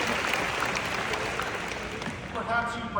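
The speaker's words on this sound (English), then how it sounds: "That deserves a clap." Audience applause at a law degree graduation ceremony at the University of San Diego, steady clapping from a large crowd with a voice speaking over it near the end.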